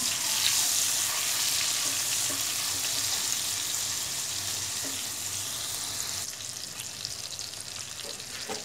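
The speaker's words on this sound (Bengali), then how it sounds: "এখন এগুলো আমি ভেজে নিব" Prawns with salt and turmeric frying in a pan, a loud continuous crackling sizzle that softens slightly toward the end, heard up close without speech.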